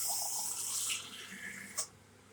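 Water running from a tap or hose while watering tomatoes, a soft faint hissing splash that fades after a second, then a short quieter spurt, with no talk.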